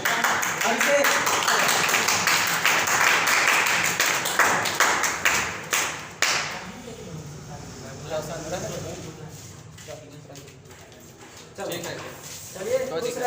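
An audience at a student prize-giving during a matric farewell party claps in a dense burst of hand claps that fades after about six seconds, then a few scattered claps and talk continue.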